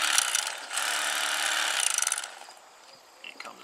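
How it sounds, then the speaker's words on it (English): An electric knife fillets a channel catfish, giving a steady close mechanical buzz for about two seconds that stutters and then cuts out, leaving faint scraping and light clicks. "the electric knife, it gets every ounce of meat, and it's fast, quick, easy"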